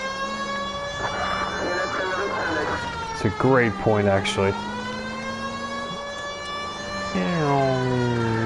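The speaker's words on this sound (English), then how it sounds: "Why don't you use the siren?" Police car siren in the L.A. Noire video game, a loud wailing tone sweeping up and down steadily throughout, with someone talking over it.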